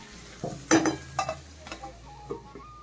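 Spatula stirring eggplant and potato curry in a pan, a few scraping strokes with soft sizzling underneath, close and moderately loud.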